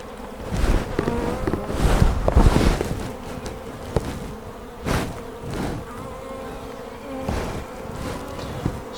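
Honey bees buzz around an open hive in spring, a dense, close drone that swells and dips as individual bees pass near. No one speaks.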